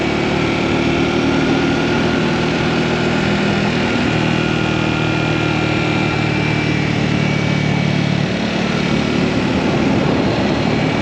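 A Triumph Scrambler 400X motorcycle engine riding mountain curves in the Utah mountains, a loud continuous drone with rushing wind noise, holding a steady pitch throughout and dipping slightly near the end.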